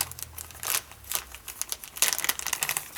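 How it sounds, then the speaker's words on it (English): Sharp scissors cut through paper for a craft project, giving a series of crisp, crinkly snips and rustles close by, irregular and moderately loud, with no voices. "Sharp scissors are a great tool."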